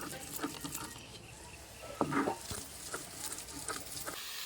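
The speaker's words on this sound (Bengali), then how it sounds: "আমি এখানে শিলনোড়াতে ভালো করে বেটে নিচ্ছি" Grinding on a traditional Bengali shil-nora grinding stone, rough rhythmic scraping and rubbing strokes close by, with soft patter and intermittent gritty bursts.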